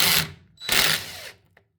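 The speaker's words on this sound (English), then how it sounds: "All right, so I have my little adapter on my input drill." A power drill fitted with an adapter for a plumbing repair whirs loudly in two close bursts, the first cut short and the second running about half a second longer before stopping, with a faint click after.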